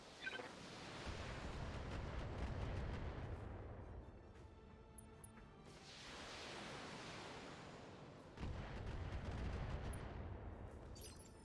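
Heavy mech weapons fire in the BattleTech turn-based game: three long, loud broadband volleys of booming artillery-like shots and impacts, each swelling and rolling for a few seconds, with a quieter gap between them and no talk.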